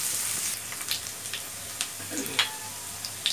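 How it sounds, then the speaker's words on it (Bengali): Onions frying in a pan, a soft steady sizzle with scattered scraping stirs and small crackles, close and fairly quiet, no voices. "একটু নেড়ে দিব, যতক্ষণ পর্যন্ত পেঁয়াজের রসটা না টেনে যাবে ততক্ষণ পর্যন্ত আমরা নাড়াতে থাকব।"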